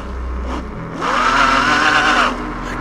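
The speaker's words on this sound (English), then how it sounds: "You can hear that front tire spinning out, it is impossible." The front tire of a Kaabo Wolf King GT Pro electric scooter spins out, making a loud, close, rising whine that holds for over a second.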